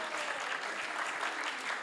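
An audience at a poetry event claps loudly and steadily for a poem, a dense, even wash of applause with no pauses.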